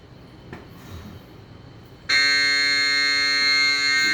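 A Rational commercial oven's timer alarm starts abruptly after a quiet stretch, a loud, sustained electronic tone that holds steadily to the end.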